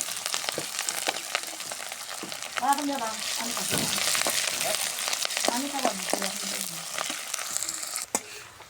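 Garlic, onion and green chili fry loudly in hot oil after cumin, a constant crackling sizzle with stirring scrapes and occasional soft voices beneath.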